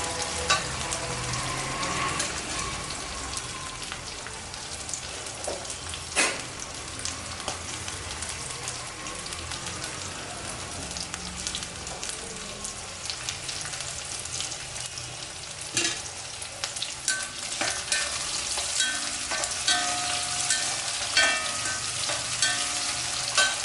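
Small onions frying in hot oil for a Chettinad fish curry, a continuous close sizzle with scattered crackling pops and occasional stirring sounds, no voices.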